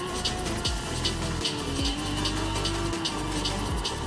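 A motorcycle ridden hard, its engine revving up and down in repeated rising and falling sweeps with gear changes, close and fairly loud against wind noise.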